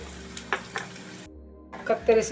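Spices such as asafoetida and dried chilli frying in coconut oil for a Kerala-style tapioca dish, short sizzling bursts around a brief quiet gap, with a louder crackle at the end.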